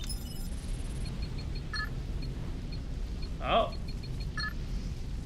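A phone rings inside the video game Halo 3: ODST as a series of short, evenly spaced electronic beeps over a steady game ambience hum, with a brief spoken exclamation partway through.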